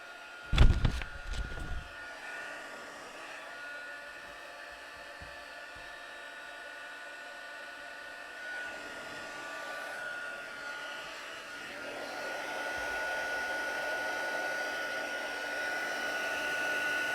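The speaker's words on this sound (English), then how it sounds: "So let's pop my heat gun on." A heat gun switched on for card crafting, running as a steady, fairly faint airy blower hiss that thickens and grows a little louder as it heats, after a brief handling clatter at the start.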